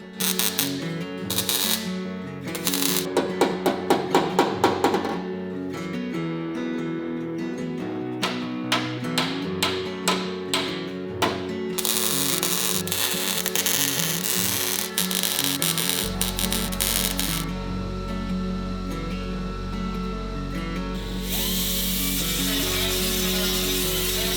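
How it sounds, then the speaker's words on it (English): A shaped Supra body panel being welded together, with crackling, buzzing bursts and quick tack-like pops coming in uneven runs, followed by a steadier, louder stretch of continuous welding noise near at hand. "so we can go ahead and start getting it welded together"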